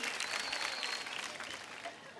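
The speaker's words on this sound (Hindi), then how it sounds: "तालियां बजाइए।" Audience applause fills an award ceremony hall, steady and full for the whole stretch, dense clapping from a large crowd without a break.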